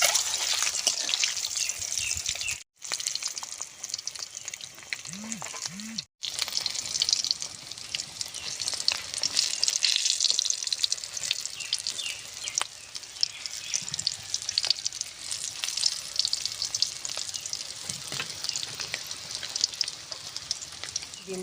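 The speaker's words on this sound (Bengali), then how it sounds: "ডিমটা সুন্দর করে ভাজা হয়ে গেছে," Country hen's eggs frying in hot oil in a pan, giving a continuous bright sizzle and crackle throughout with occasional scraping of a spatula and brief pauses, close and moderately loud.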